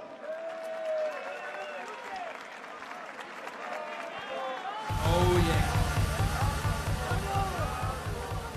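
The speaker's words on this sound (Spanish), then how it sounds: "Y un aplauso para los tres MCs," An audience at a rap battle semifinal in Alicante, Spain, applauds for three MCs, with a loud burst of clapping and cheering joining halfway through under an announcer's voice and crowd chatter.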